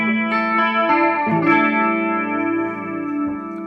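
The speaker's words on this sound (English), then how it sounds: "I often leave it set to the very subtle Electric Mistress sort of chorusy kind of effect." A sustained electric guitar chord shimmers through a subtle Electric Mistress-style chorus effect, a few notes struck in quick succession and then left ringing, with a swirling, gently modulated tone and no talking.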